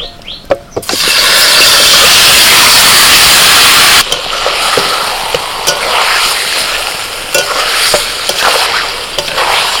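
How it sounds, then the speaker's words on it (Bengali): Marinated chicken drops into hot oil in a wok with a sudden loud burst of sizzling that settles into steady frying, marked by stirring scrapes and taps. "ওই তেলের মধ্যে আমি দিয়ে দিচ্ছি এই চিকেনটা, যে চিকেনটা ম্যারিনেট করে রেখেছিলাম।"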